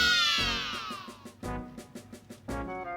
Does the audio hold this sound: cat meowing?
yes